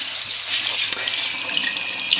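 Water squirting and splattering in a steady broad hiss as an Epson 1400 inkjet printer's felt waste-ink absorbing pad is rinsed close to a running tap, continuous with a few brief splashy spikes.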